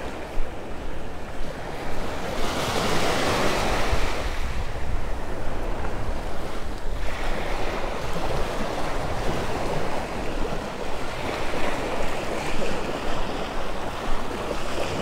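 Choppy ocean surf rolling in and washing over Vanderbilt Beach in North Naples, Florida, waves rising and falling in a continuous roar, with wind buffeting the microphone.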